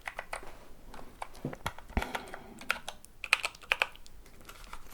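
Fingers type on a creamy mechanical computer keyboard, a close, quick patter of clicky keystrokes with a few louder taps, and no voices.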